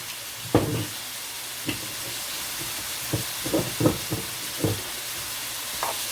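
Meat sauce cooks down in oil in a pan, giving a steady soft sizzle broken by several sharp spits and stirring clatters at close range.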